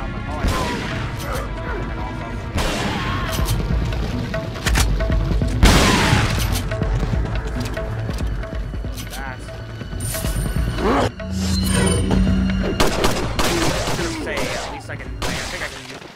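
Bursts of video game gunshots with booms and crashing impacts during a shootout against several enemies, loud volleys separated by short pauses, with a voice talking in between.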